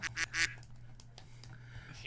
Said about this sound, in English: we've actually got the quack sound effect on the Discord thing